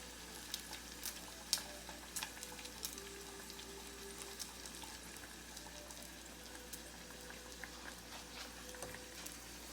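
Cheesy plant-based beefy patty frying in a pan of shallow oil, tilted to reach the edges, giving a steady close sizzle with scattered crackling pops and occasional louder spits throughout.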